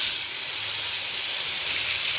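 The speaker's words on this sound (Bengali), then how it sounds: "তেলটা গরম হয়ে গেছে, এবার মাছগুলো দিয়ে দিব।" Fish dropped into hot oil on a heated tawa for a fish curry, a loud, dense hissing sizzle that holds steady close up for a couple of seconds before easing slightly.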